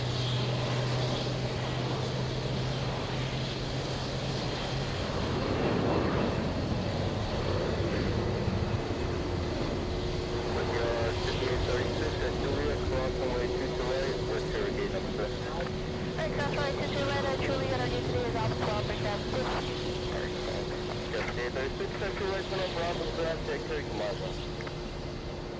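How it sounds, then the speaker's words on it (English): Airbus A330 airliner arriving from London Heathrow at Los Angeles, a steady broad jet roar lasting throughout with a low engine hum, heard under intermittent talk and radio chatter. "A330 flying in from London's Heathrow."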